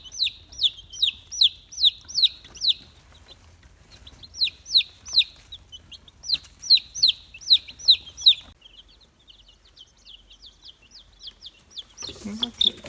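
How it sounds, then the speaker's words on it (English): Young gray chicks cheeping in repeated bursts of rapid high peeps, fairly close and clear, with short quiet gaps between runs and some faint handling noise at the end. "And you can see there's one of my gray chicks that was hatched."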